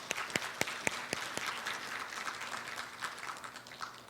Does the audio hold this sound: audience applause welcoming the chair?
yes